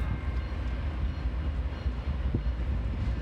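A Norfolk Southern mixed freight train led by ex-BNSF locomotives rolls past close by, a steady loud rumble of wheels and cars with a brief knock, no voices.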